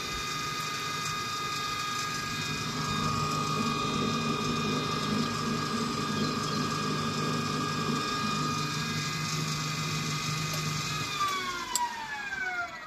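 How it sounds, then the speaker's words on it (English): Electric narrowboat motor running with its drive shaft disconnected, a steady high mechanical whine with layered tonal harmonics and a rattling gear-like texture that winds down near the end. "the drive shaft is disconnected from the motor, so we're not going to have any propulsion, but the motor is running"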